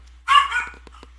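Household dogs bark loudly nearby in a short burst, one sharp, whining bark followed by a few quieter yips and thumps against a silent background.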